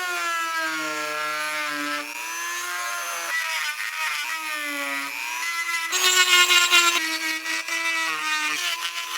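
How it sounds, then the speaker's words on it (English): A Dremel rotary tool runs steadily while cutting parts for a handmade cane sword, giving a high, wavering whine that shifts pitch as the load changes and briefly grows louder and harsher near the end. "Before I even turn the Dremel on, I got to cut down."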